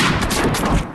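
Sniper rifle shot in the Hunting Sniper deer-hunting game, a loud, dense burst of gunfire filling the whole second before dropping off abruptly at the end.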